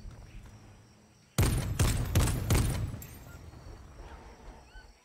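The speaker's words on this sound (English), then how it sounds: "Can hear shots from behind." A burst of several rapid gunshots from behind in Fortnite Zero Build, loud and punchy after a quiet start, then fading off into faint background game ambience.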